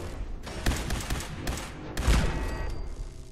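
Rapid gunfire aimed at a turret in the video game Fallout 4, a close, loud string of shots in quick bursts with heavier thumps, no talk.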